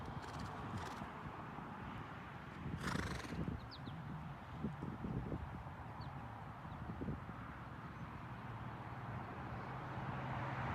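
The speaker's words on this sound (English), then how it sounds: "Now we're taking that horse for a walk." A horse being walked near passing traffic, hooves clip-clopping in an uneven series of soft, moderately close strikes, with a brief whinny-like burst early on and low traffic rumble in the background.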